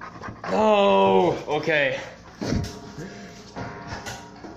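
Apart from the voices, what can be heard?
dog panting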